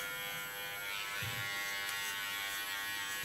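An electric hair clipper runs steadily as it cuts long hair into a bob, a close, constant buzzing whir with slight shifts as it moves through the hair.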